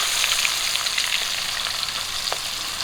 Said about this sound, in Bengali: পাঙ্গাল মাছের তেল দিয়ে তো মাছ ভাজা হয়ে যায়